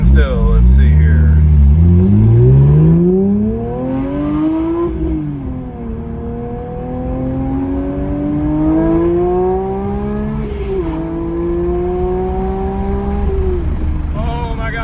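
A Porsche 992 GT3 fitted with a JCR exhaust accelerates hard from a standstill, its loud engine note climbing steeply through several gears with clear pitch drops at each shift.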